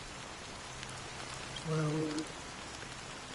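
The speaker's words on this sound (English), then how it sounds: "So, how long has this rain been going on for?" Steady rain in the video game Honkai Star Rail, a soft, even hiss of falling drops throughout, with a brief spoken word partway through.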